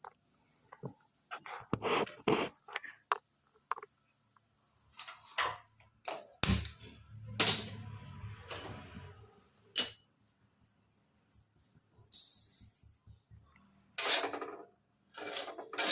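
Barnyard millet (bhagar) is dry-roasted in a pan, with sparse scraping, stirring and clinking of a utensil against the pan between quiet pauses.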